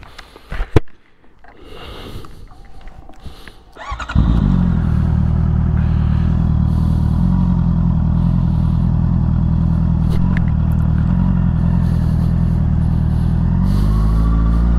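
A Honda CBR650R motorcycle is ridden along twisty roads. Low rumbling and handling noise give way after about four seconds to a loud, steady, close engine drone with wind rush that continues to the end, with no talking.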